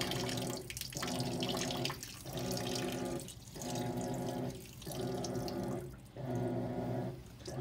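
Steady rushing water pouring into a washing machine, pulsing in regular surges roughly every one to two seconds, fairly close and continuous.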